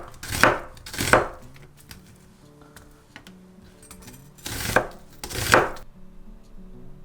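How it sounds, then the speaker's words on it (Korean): A knife chops an onion on a cutting board in two pairs of firm strokes, separated by a pause with light clatter, close and crisp. "양파도 반 개 정도 잘라준다."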